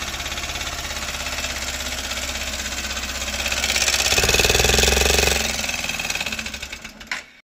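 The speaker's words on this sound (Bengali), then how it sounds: "এই যে গাড়ির সাউন্ড।" An old Hero Xtreme motorcycle engine idles with a rough, rattling beat and poor pickup, swelling briefly louder around the middle before settling and cutting off near the end, close and alone.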